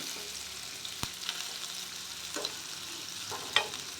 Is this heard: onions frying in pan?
yes